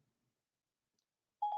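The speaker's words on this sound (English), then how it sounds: "I said Sherry, and my phone thought I said Siri." A short electronic chime from a phone's Siri voice assistant, set off by mistake, rings out as a clear tone after a near-silent stretch.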